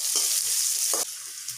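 Dried red chillies and a green chilli fry in hot oil with a loud, close, continuous sizzle, broken by a couple of short stirring scrapes.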